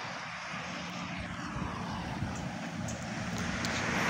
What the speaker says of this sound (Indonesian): Ini mesinnya Hino nih, yang belakang mesinnya Mercy.